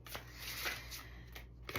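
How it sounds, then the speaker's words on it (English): A tarot card deck is shuffled up close in a quiet room, with bursts of papery riffling and flicking and short pauses between them. "I've been shuffling this deck for like a solid minute"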